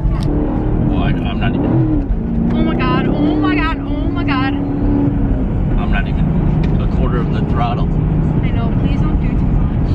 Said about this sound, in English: he's taking me for a ride in the Camaro